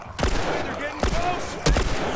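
Three sharp gunshots ring out in The Last of Us Remastered, spaced under a second apart, each a loud, punchy crack with a short tail over low background game noise.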